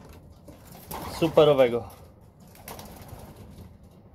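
Pigeons, including a breeding pair of stampara, cooing close by, a short burst of soft low calls in the middle between stretches of quiet, with someone talking briefly.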